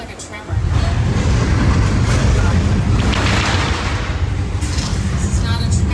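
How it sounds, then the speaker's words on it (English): A simulated earthquake on a subway set at Universal Studios: a sudden deep, loud rumble kicks in and holds steady, like heavy shaking underground, with rattling and creaking over it. "This is not a tremor. This is an earthquake."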